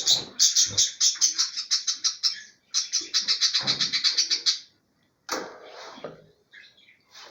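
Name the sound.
albino bird chick calling in the nest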